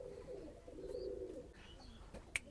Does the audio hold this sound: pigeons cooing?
yes